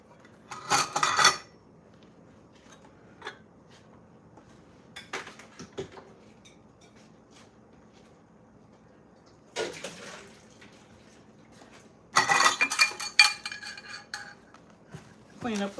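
Dishes and cutlery being cleaned up in a home kitchen after making ice cream, heard as a few separate bursts of clinking and clattering with quiet stretches between them.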